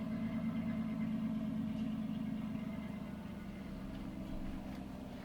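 A 1966 Plymouth Satellite's engine runs at a steady idle, a low, even rumble that stays fairly quiet and constant, with no other sounds.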